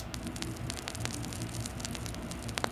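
Vinyl crackle layered into a lo-fi jazz hip hop beat: a dense scatter of quiet, irregular clicks and pops over a soft, steady low hiss and hum, lasting just under three seconds.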